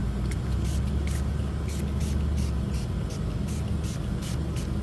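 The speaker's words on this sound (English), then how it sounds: "just squeeze spray." Spray can of Alsa chrome paint hissing in short repeated bursts, about eight quick sprays over a steady low background drone, close and fairly loud.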